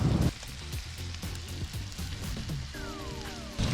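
Chicken bacon ranch cones and small bacon-sized bits sizzle and fry steadily on a flat-top Blackstone griddle, a continuous close crackle with a few scraping touches and a faint rising whine near the end.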